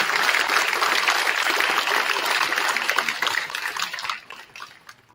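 Dense, sustained applause fills a hall at the Army & Navy Academy's 2024 opening ceremony, honouring cadet leadership, faculty and staff, then thins and fades away near the end.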